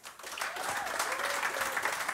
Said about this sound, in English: Round of applause for Francis